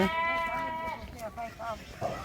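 A goat being milked lets out one close, quavering bleat, followed by people talking over fainter, shorter bleats.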